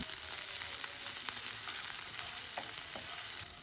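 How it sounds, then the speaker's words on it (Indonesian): Garlic, ginger and onion sautéing in a pan for a black pepper beef stir-fry, a constant dense sizzle with faint scattered stirring clicks, close and even. "Lanjut kita tumis bawang putih, cincang, jahe, dan juga bawang bombay. Tumis hingga wangi dan agak kecoklatan."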